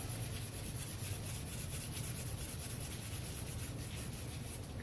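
Steady, continuous close-up rubbing of sandpaper across the painted surface of a cosplay prop, a soft, even scratchy hiss held at a constant low level with no talk.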